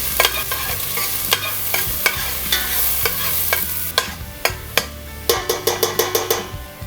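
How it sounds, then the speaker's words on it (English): Onions frying in hot oil for chicken vindaloo sizzle steadily while a utensil scrapes and taps the pan in repeated sharp strokes, close and loud, the stirring quickening into a rapid run of clicks near the end. "And now I'm going to throw in the onions. That sizzle should tell you"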